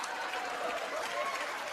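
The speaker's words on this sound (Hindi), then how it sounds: "इनके लिए भी जोरदार तालियां।" Brief, fairly quiet applause from a studio audience at a comedy show, an even patter of clapping with no clear speech on top.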